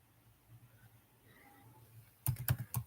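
Typing code on a computer keyboard begins after a long quiet stretch, then a quick cluster of close, crisp keystrokes in an irregular rhythm, with no talk.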